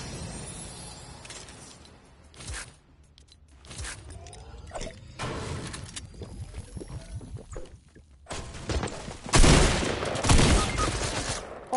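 Rapid bursts of submachine gun fire from a shooter video game, with sharp impacts and louder, closer volleys toward the end, separated by quieter gaps.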